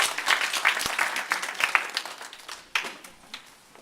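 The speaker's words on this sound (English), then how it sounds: "how about a nice round of applause for Senior Scaggins" Audience at a morning event applauds the introduction of a speaker, a lively round of clapping that rises and gradually thins out, heard at a moderate distance with no talking over it.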